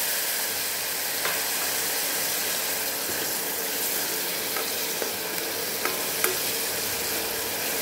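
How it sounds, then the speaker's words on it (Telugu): Chopped tomato frying with onions in a pan for palak chole, a steady close sizzle with scattered soft scrapes and clicks of stirring throughout, no talk. "టమాటా అనేది మెత్తగా అయ్యే వరకు కూడా దీన్ని వేయించుకోవాలి"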